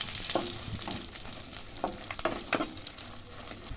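Green chillies fry in hot oil with a continuous crackling sizzle and occasional stirring scrapes, close and fairly quiet, with no talking.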